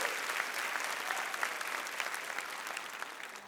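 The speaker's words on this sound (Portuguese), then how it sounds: "Agora dá um brado de aleluia, um aplauso ao Senhor." Steady applause fills a church conference hall as the congregation claps for the Lord, a dense, continuous wash of hands from a large crowd at moderate distance, with no talk over it.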